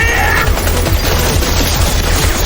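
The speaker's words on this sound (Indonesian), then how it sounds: "mereka langsung dihujanin peluru dari segala arah" Dense gunfire from an anime battle scene, with soldiers hit by bullets from all directions in a dark forest, hammers continuously in a loud, close barrage of rapid overlapping shots.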